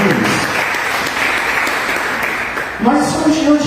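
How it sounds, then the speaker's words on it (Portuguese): A church congregation claps steadily for a few seconds during a service, then a preacher begins speaking as the applause fades. "Você pode sentar aplaudindo ao Senhor."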